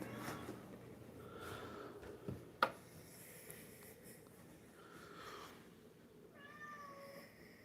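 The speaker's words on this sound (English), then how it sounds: "my cat." A house cat in a home kitchen lets out a few soft meows spread across several seconds, with a sharp click midway and a clearer, drawn-out meow near the end, all fairly quiet.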